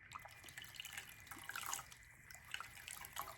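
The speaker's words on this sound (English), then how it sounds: "I'm just rinsing right now" Water runs from a bathroom sink tap during a face rinse, a soft continuous splashing and dribbling heard nearby at low volume, with no speech.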